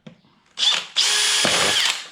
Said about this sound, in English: I'm just drilling these out at the moment.